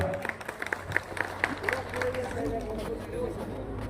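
Applause from a crowd at a public election rally in Balwadi, with scattered sharp claps early that give way to a murmuring crowd and a low, steady hum.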